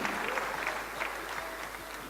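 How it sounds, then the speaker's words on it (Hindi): An audience claps steadily at a network marketing talk, a dense, even wash of applause from many hands that continues without a break. "आपकी तालियां खुद ब खुद बज रही हैं"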